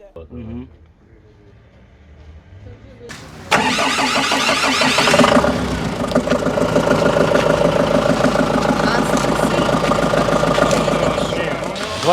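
A 9 kW generator engine cranks and catches after a few quiet seconds, then runs at a loud, steady drone, with voices talking over it.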